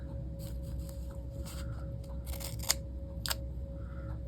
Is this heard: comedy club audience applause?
no